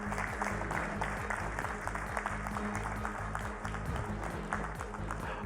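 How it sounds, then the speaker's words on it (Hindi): An audience at an awards ceremony claps continuously, a dense, steady patter of many hands holding at an even level for several seconds over a low tonal hum. "आपकी भरपूर तालियों में।"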